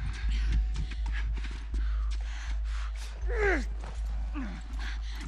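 Horse galloping in The Last of Us, its hooves clip-clopping in a steady, close, loud rhythm, with strained vocal gasps and cries rising over the hoofbeats.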